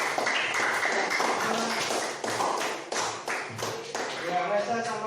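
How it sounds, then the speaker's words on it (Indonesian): A classroom of students applauding a presenting group, a dense run of overlapping claps close by with voices mixed in. "Tepuk tangan untuk kelompok 1 ya."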